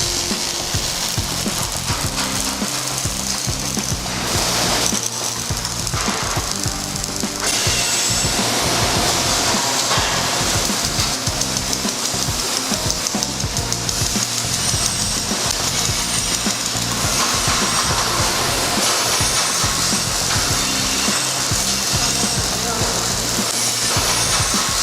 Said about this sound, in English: rubber welding machine.